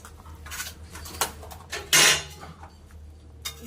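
A few scraping, clinking strokes of a utensil stirring a sour mango and snakehead fish curry in a pot, with one louder scrape in the middle, over a low background hum.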